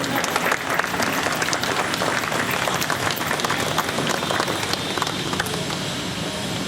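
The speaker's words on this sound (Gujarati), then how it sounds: "પ્રેક્ષકોને વિનંતી કરીશ કે તાળીઓના ગડગડાટથી એમનું સ્વાગત કરી લે" Steady applause from an audience welcoming guests to the stage at a youth group health talk, a dense continuous patter of many hands that holds at an even level throughout, with some faint voices mixed in.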